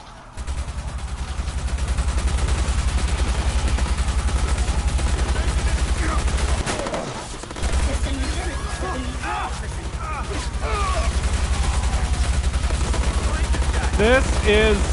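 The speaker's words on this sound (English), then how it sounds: "Switch to missiles and fire." Missile launcher fire in the Watch Dogs video game, a loud sustained barrage of rapid blasts and crashes with a brief gap midway, over constant low engine drone with someone talking.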